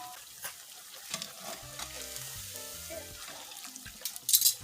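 Gluten-free jackfruit bacalaitos (fritters) frying in oil, a close, steady sizzle with bubbling pops and some faint tonal hum beneath, ending in a brighter burst of crackling, no speech.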